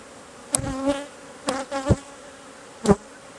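Agitated honeybee colony, close buzzing bursts from bees flying near, several sharp rising-and-falling whines over a low background hum.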